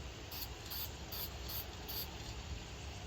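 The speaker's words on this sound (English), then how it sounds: "Just gonna mist it on and fog it on, not spray it on too hard." A soft, continuous hissing mist with faint rhythmic pulses, like a spray bottle being pumped gently several times in a row, fogging finish onto a lacquered table top outdoors in wind.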